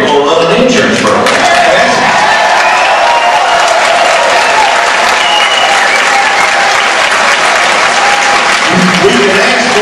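A town hall audience bursts into loud, sustained clapping, a dense, unbroken roar of many hands close and full for the whole stretch, with a few voices mixed in.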